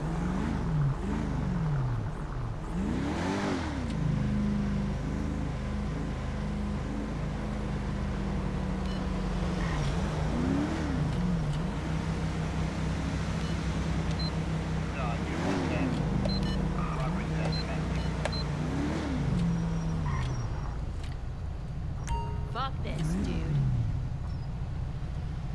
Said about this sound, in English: Alright, we got a vehicle here.